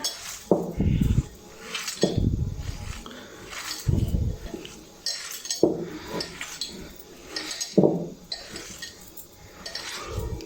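A beef kofta mixture is worked together in a bowl, with a spoon repeatedly clinking and scraping against the dish in uneven bursts, fairly close and without any talking.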